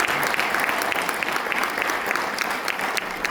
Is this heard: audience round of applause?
yes